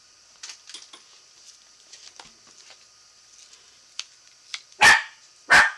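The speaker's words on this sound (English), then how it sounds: "No bark, please." A pet dog lets out two loud, close barks near the end, after a stretch of faint, scattered pattering and small taps indoors.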